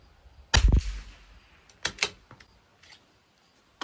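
A single sharp rifle report from a CZ 457 LRP rimfire rifle fired at close range, followed by a quieter echoing tail and a few softer clicks.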